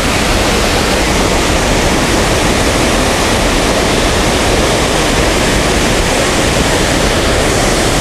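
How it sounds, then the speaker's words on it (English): Waterfall along the Blue Ridge Parkway after days of rain: a loud, close, continuous roar of falling water filling the whole stretch evenly with broad rushing noise. "It's a pretty waterfall, that's for sure."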